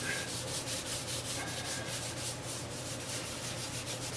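Finish is rubbed onto the bottom of a scroll-sawn wooden Christmas golf sign, giving a soft, rhythmic brushing scrape repeated in quick strokes, faint and close with no talk.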